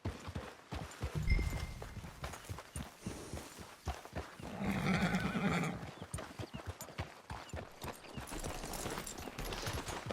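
Horse hooves clip-clop steadily in Red Dead Redemption 2, with a loud neigh and whinny rising in the middle, the rhythmic steps carrying on near and clear without talk.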